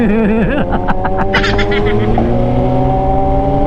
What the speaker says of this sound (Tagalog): Ay, ang ingay naman ng motor na yan.